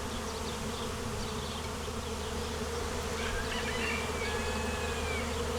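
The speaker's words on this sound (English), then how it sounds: "look at this swarm of bees moving in" A wild bee swarm moving into a barn makes a steady, dense buzzing that fills the clip from start to finish, close and even, with a few individual bees whining past near the microphone.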